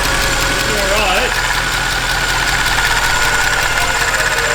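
A Mercedes E63 AMG V8 engine idles roughly after a restart, a steady loud mechanical rumble with an uneven, shaky texture running throughout, close by.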